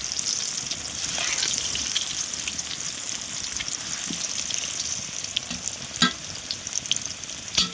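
Large potato chunks, seasoned with salt and turmeric, frying red in oil for a mutton curry: a continuous close sizzle with bubbling crackle and a few louder pops toward the end.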